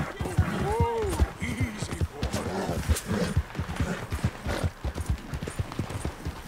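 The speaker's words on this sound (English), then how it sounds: "if I don't get on this horse, I ain't getting away" Hooves clatter in a quick galloping rhythm as a horse is ridden in a Red Dead game, close and prominent, with someone talking over it and a brief whinny early on.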